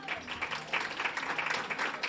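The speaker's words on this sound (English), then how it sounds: "Can we have a round of applause for Jan?" A luncheon audience applauds in honour of Jan Willinger, a steady, moderately loud patter of many hands clapping throughout, with faint voices underneath.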